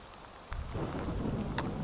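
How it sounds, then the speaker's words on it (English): A dull rumble of thunder rolls in during steady rain outdoors in the Yorkshire Dales, with a soft wash of falling drops throughout and a brief sharp crackle near the end. "And that's thunder again."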